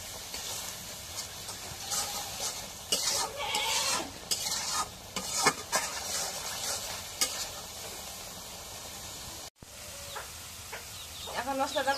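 Dried fish (shutki) sautéed with spices in a sizzling pan, continuous frying hiss under repeated scraping stir strokes, close up, with faint farm animal sounds in the background and no talk.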